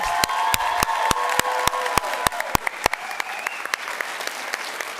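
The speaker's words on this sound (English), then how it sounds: "let's give our support system of the class of 2025 an outstanding applause" Audience applause at a class of 2025 graduation ceremony held during a school board meeting, a dense wash of many hands clapping with sharp individual claps standing out, steady then thinning slightly toward the end, with faint voices underneath.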